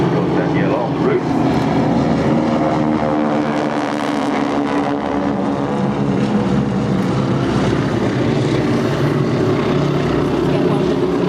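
An old biplane's propeller engine drones loud and steady at an airshow wingwalking display, a continuous close roar with no breaks.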